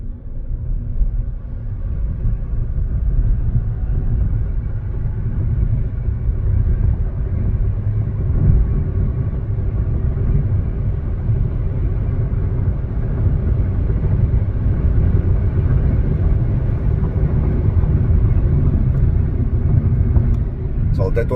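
A 2025 BYD Dolphin Surf electric car, 154 hp with a 43 kWh battery, accelerates from 0 to 100 in eco mode on concrete, heard from inside as a steady low road rumble throughout.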